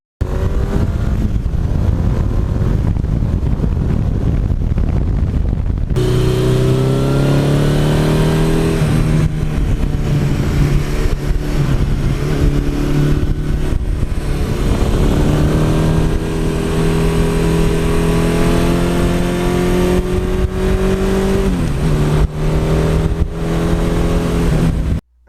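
A 1982 Suzuki GS1100E motorcycle cruises slowly with a steady, loud, close engine drone throughout, its pitch rising and shifting slightly through gear changes, with no talking.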